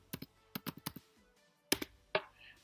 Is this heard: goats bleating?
no